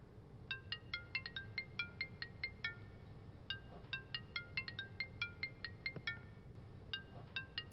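A phone ringtone plays a quick, bright repeating chime pattern in two bursts with a short pause between, moderately faint over a low background hum.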